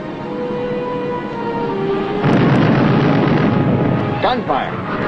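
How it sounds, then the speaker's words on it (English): Aboard a submarine, a hum with steady tones gives way to a sudden loud burst of rapid firing that continues as a dense, rattling roar, with a few sharper cracks near the end. "Gunfire."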